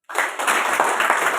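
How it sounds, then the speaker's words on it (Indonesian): Short burst of clapping from a gathered audience at a church retreat, starting abruptly and continuing as dense, fairly close applause for about a second and a half. "Tepuk tangan buat mereka."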